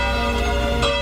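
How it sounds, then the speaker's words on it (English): Church bells ring in a sustained, resonant metallic chime with overlapping tones, loud and close, with a fresh strike near the end. "Oh, the bells, yes."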